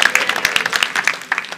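A church congregation applauds during a Spanish-language sermon, giving a dense, loud wash of many hands clapping up close and continuing steadily throughout.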